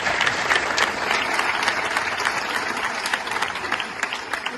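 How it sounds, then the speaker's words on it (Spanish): An audience claps steadily, a dense wash of many hands applauding at close range, sustained and even for the whole stretch with no talking over it. "Bueno, yo creo que vamos a darles un aplauso a los gemelitos."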